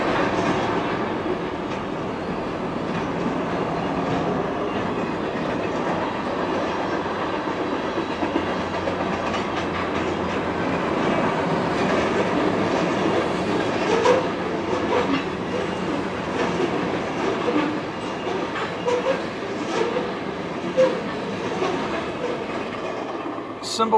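A CSX freight train with covered gondolas rolls past steadily for a long stretch, a continuous broad rumble with rhythmic wheel clatter and occasional squeal, loud and close throughout.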